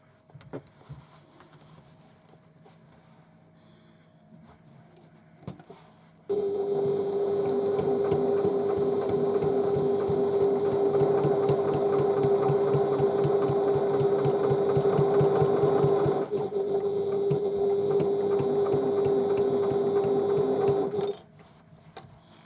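A sewing machine stitches the side of a tote bag, running in one continuous, steady, buzzing pass for about fifteen seconds after a quiet start, then stopping abruptly.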